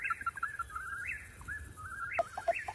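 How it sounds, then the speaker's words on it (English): Outdoors in the Kettle Moraine woods, birds call repeatedly in short rising and falling whistles and chirps, fairly faint and at a distance, over a low background rumble with no talking. "when I started playing these, birds started going bananas"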